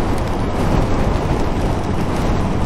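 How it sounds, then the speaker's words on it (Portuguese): Heavy rain roaring in a dense, steady wash during a motorcycle trip near Perdões, Brazil, mixed with wind buffeting and a low rumble, no voices. "Muita chuva hoje."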